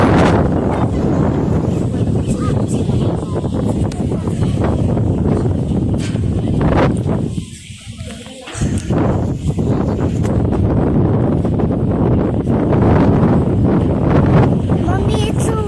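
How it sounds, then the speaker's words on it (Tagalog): Strong gusts buffet the microphone almost nonstop, a loud rumbling roar on a windy, cold outing; it drops away briefly midway, then returns. Someone talks over it. "Mommy, it's so windy."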